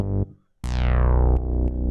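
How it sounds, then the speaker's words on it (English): Funky retro synth bass from a Tyrell N6 plugin with an old Moog-style tone: a sustained, harmonically rich low note, a short gap, then a brighter swelling note with filter sweep and two accent retriggers, loud and alone. "Really sounds like an old Moog bass."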